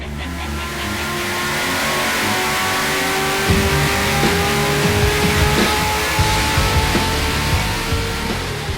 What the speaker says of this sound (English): let's see how she goes on the dyno.